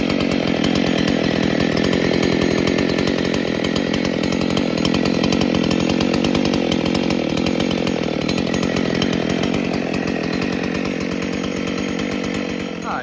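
A Husqvarna 272XP chainsaw built with performance work runs steadily and loudly at close range for the whole stretch, its dense buzzing roar holding an even pitch without pauses.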